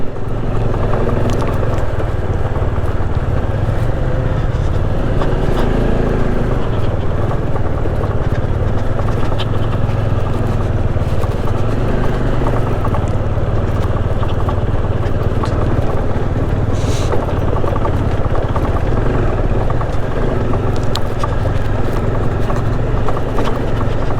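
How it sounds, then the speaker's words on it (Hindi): A motorcycle climbs a steep, snowy mountain road toward Chanshal near Shimla in first gear, its engine droning loudly and continuously with wind buffeting over the entire stretch. "बाइक जो है एक गियर में ही चढ़ रही है।"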